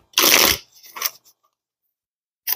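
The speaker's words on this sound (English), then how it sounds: "as I shuffle the cards" A deck of tarot cards shuffled up close, one loud riffling burst followed by a couple of softer card flicks and a brief final snap after a pause.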